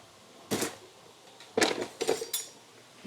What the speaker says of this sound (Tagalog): maghiwa tayo ng sibuyas. Meron tayong sibuyas ditong malaki